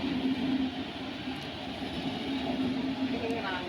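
Semmozhi Express passenger train bound for Coimbatore, standing at Trichy station, gives off a steady low mechanical hum and broad rumble with station ambience, continuous and fairly close throughout.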